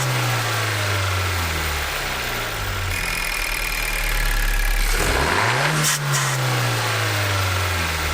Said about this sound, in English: I'm gonna go ahead and give it just a quick little rev here at idle